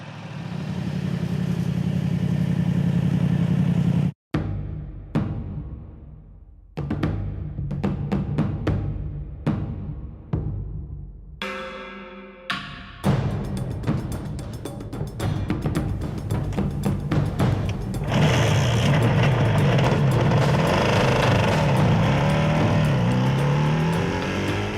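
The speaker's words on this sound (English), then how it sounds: "I'm riding a 500cc 4-cylinder road bike, superbike if you like." A Yamaha YZF500 four-cylinder 500cc road bike being ridden, its engine droning loudly and close, with gear changes, revving and rising acceleration throughout.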